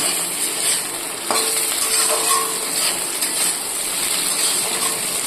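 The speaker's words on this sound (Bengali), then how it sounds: "এবার আমি দিয়ে দিচ্ছি শুটকি মাছগুলো।" Dried fish sizzles with onions in a hot pan, a close, steady crackling fry with occasional stirring scrapes and a sharper burst of hiss as the fish goes in.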